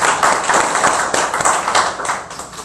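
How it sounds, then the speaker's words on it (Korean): A church congregation claps during a Sunday worship service, steady loud rhythmic clapping from many hands throughout, close and without speech. "하나님께 영광의 박수를 드리도록 하겠습니다"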